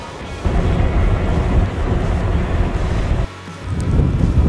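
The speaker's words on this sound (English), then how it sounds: "windy side of the super pit." Strong wind buffets the microphone at the rim of the Kalgoorlie Super Pit open-cut mine, a loud roaring rush that drops briefly near the end before gusting back up.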